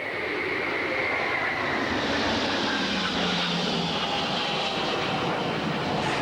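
Concorde supersonic airliner flying at an Oshkosh airshow: a loud, continuous jet roar that holds steady with a slowly shifting whine, heard from a distance with no voices.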